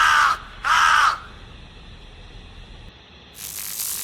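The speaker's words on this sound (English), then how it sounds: "This is crow." Crow cawing twice in close succession, two loud harsh calls, followed by a quieter stretch and then a burst of hissy noise at the end.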